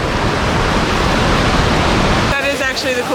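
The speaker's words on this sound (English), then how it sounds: "That is actually the coolest waterfall I think I've ever seen." A powerful waterfall on Negros island roars as a steady, loud broadband rush for a little over two seconds, then cuts abruptly to a much quieter scene.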